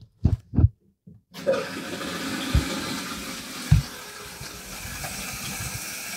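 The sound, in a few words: toilet tank filling with water through new fill valve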